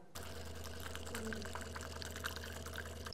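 Water pours steadily into a cup of espresso to make an americano, a faint continuous splashing stream with a low machine hum underneath.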